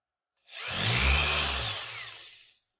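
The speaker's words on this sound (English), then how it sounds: "I'm gonna go ahead and we're gonna drill this in." A power drill drives a screw into a shoe in one continuous whirring burst of about two seconds, rising quickly and then winding down, close by with no talking.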